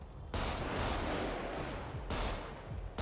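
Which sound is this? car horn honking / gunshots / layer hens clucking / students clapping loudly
gunshots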